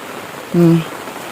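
Rain falls outdoors as a continuous broadband hiss, with a brief voiced sound rising over it midway before the steady wash continues.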